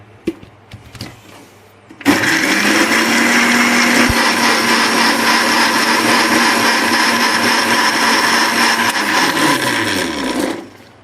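An electric kitchen blender blends falsa berries with sugar for sharbat, running as a loud, steady whirring roar for about eight seconds after some brief handling noises, then spinning down.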